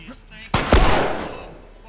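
A sharp, loud gunshot from The Last of Us Remastered bursts out, followed by a booming echo that slowly fades.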